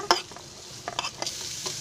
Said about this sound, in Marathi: त्याच्यामध्ये कांदा टाकते भाजायला